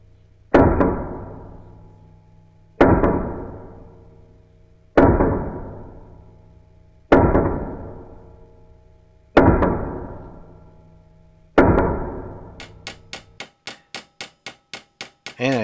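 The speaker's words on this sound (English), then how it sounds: "go in with the ball peen hammer" Six heavy, evenly spaced ball peen hammer strikes with the peen end, mushrooming metal, each ringing out and decaying, followed by a quick flurry of lighter rapid taps.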